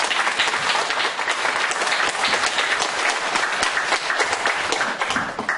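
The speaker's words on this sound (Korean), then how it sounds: "우리 박수로 환영하겠습니다" A church congregation claps steadily in a dense, loud wash of applause that holds throughout without pause.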